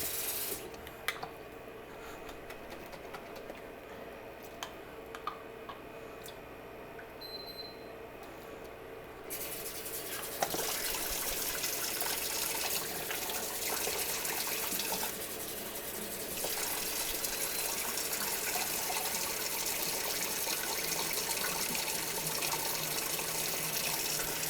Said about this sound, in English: grab the water, put the lid back on, slosh it around, pour it out, and do that a couple times